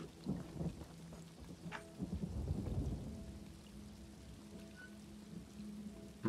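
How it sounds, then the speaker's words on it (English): Rain falls outdoors in a soft, steady patter, with a low rumble of distant thunder rolling through the first few seconds, then a quieter continuous rain-on-surface wash. "It started raining."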